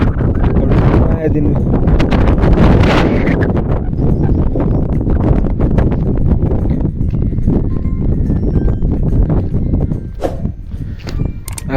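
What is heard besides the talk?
strong wind on a rooftop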